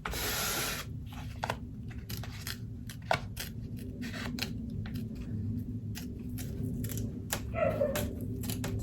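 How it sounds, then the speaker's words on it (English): A dog barks somewhere in the background, faint and intermittent, while scissors snip repeatedly up close. "Sorry, my dog's barking."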